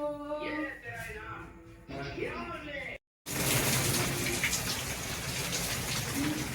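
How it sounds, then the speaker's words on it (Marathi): Voices sing briefly, then after a short break a loud, steady rush of heavy rain takes over and continues without pause. "खूप जोरात पाऊस येत आहे."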